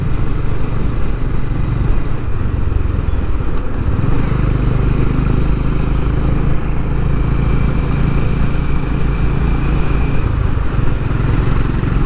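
Honda H'ness CB350 motorcycle engine droning loud and close while riding, with the pitch shifting as it accelerates and no voices over it.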